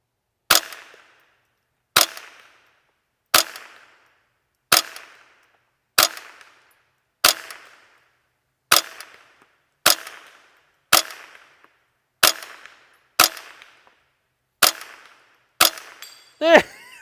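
A .22LR Ru-Zooka fired at a 4-inch steel plate 100 yards away outdoors: thirteen sharp, evenly spaced cracks about every 1.3 seconds, each with a short ringing tail, loud and close.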